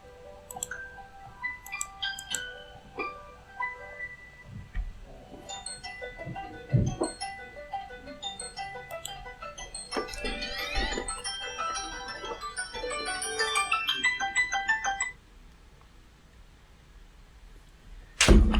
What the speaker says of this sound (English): Sorry, there goes my phone.